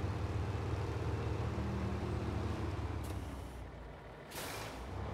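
A heavy truck in SnowRunner reverses at night through mud, its engine droning steadily before easing off, with a short hiss of air brakes near the end.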